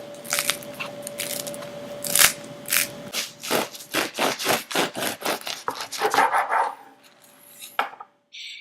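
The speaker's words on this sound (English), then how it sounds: "Now it is really crispy on the outside, so we're going to cut right into it." A knife saws into a crispy homemade baguette, its hard crust giving a rapid series of crackling, crunching strokes that speed up toward the end, close and fairly loud with no talk.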